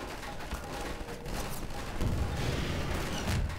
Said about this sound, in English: This is the rocket launcher.